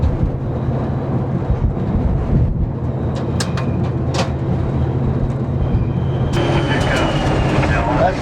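An Amtrak California Zephyr from 1993, its locomotives working hard up a steep, short grade, gives a loud, heavy, steady engine rumble, with brief squeals and clanks and a rising hiss near the end.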